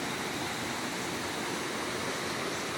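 Clear river water rushing and flowing in a dense, steady, close wash of noise with no breaks.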